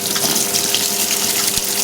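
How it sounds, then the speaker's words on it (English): A 2002 Kelvinator K605 top-loading washing machine filling with cold water during its deep rinse as the tub turns, a loud steady gush and hiss of inflowing water with a low motor hum, heard alone. "now we're in deep rinse. Filling with cold water."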